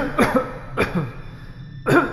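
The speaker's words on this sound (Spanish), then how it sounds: "fue víctima de un paroxismo de prolongada y violenta tos." Three harsh, forceful coughs burst out close by, spaced roughly half a second apart with a longer pause before the last.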